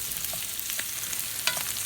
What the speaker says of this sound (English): And then we're going to put the steak in and get that warmed up.